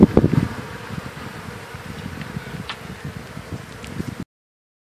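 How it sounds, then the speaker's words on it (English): Honeybees from a cut-out fill vacuum buckets, their dense, close buzzing humming continuously before cutting off abruptly. "Pretty full buckets of bees here."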